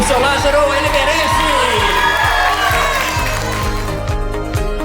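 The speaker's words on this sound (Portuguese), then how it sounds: "Mais uma salva de palmas pro seu Lázaro, ele merece!" A studio audience cheers and applauds a prize winner on a Brazilian variety show, with steady loud clapping, whoops and crowd noise lasting throughout, over a rhythmic musical beat.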